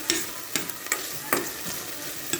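Butter, onion and shallot frying in a pan, a soft sizzle broken by several sharp scraping stirs of a utensil, close and alone.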